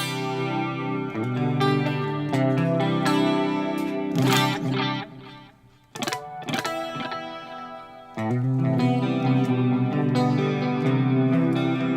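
Electric guitar played through a chorus effect on a modelling rig with a Klon-style overdrive and studio preamp sound, giving sustained, shimmering chords and single notes with a brief dip near the middle, loud and close with no talking.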